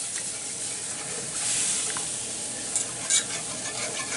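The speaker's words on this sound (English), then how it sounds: "you want to kind of stir this and get all that stuff off the bottom of your skillet, and that cold milk will do that" Deer sausage gravy sizzles hard in a skillet on a hot stove as cold milk is stirred in, a steady broadband hiss with faint scraping of the spoon along the bottom and a couple of brief louder spatters near the end.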